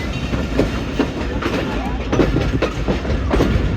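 Passenger train 48 Dn Rehman Baba rolling between Rawalpindi and Wazirabad as it is switched toward platform 4, with steady wheel rumble and rhythmic clickety-clack over rail joints throughout.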